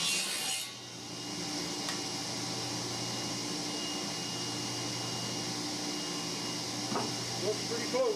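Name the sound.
cutting a wooden tenon by running wood through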